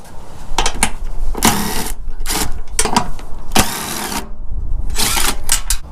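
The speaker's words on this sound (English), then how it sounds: "we're going to release these two 12 millimeter bolts to finally free the" Power impact wrench or driver loosening 12 mm bolts on a vehicle's rear bumper during a CBI dual swing arm bumper install, sounding in several loud whirring bursts with short pauses between, close by and without talk.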